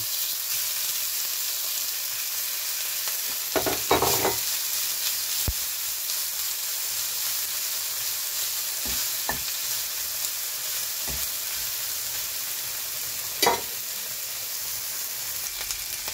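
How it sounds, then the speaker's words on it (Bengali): Dried Elenga fish (shutki) fries in a pan with a steady, close hiss of sizzling oil, broken by a few sharp knocks and scrapes from stirring; nobody speaks. "প্রথমে একটু ভেজে নেব"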